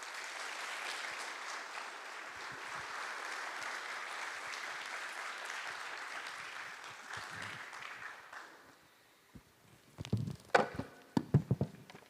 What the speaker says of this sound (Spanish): vamos a invitar al expositor Pastor José Kim con grandes aplausos